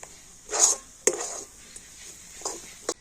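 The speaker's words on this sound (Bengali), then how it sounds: "এইভাবে কিন্তু কন্টিনিউ নাড়াচাড়া করে নিতে হবে" A spoon scrapes and knocks against a pan as potatoes are stirred over low heat, giving a few short, close clatters and scrapes separated by quiet gaps.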